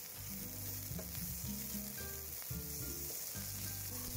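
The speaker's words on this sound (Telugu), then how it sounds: "ఇప్పుడు ప్యాన్లోకి 2 టేబుల్ స్పూన్ ఆయిల్ వేసుకొని ఒక మీడియం సైజు ఉల్లిపాయ ముక్కలు వేసి ఫ్రై చేసుకోవాలి" Medium onion slices sizzle and fry in two tablespoons of oil in a pan, a steady close crackle with occasional stirring, no voices.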